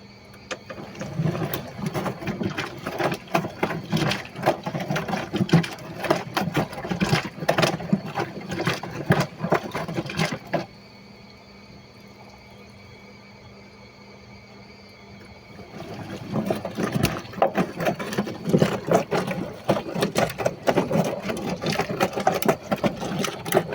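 Colour load washing at 40 degrees in a washing machine's main wash cycle, a rhythmic churning and sloshing drum with a motor hum that pauses for about five seconds midway before the tumbling resumes.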